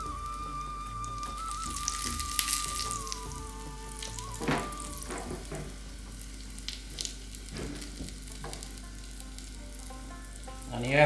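Eggplant slices frying in oil on a tawa pan, a steady close sizzle and crackle with occasional soft scrapes and pops, continuing without talk.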